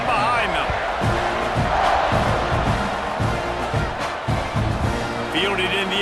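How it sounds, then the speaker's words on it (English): Stadium crowd roaring continuously at a college football game between Utah State and Texas A&M just before a kickoff, loud and sustained with rhythmic surges throughout. "this crowd now ready to get behind them"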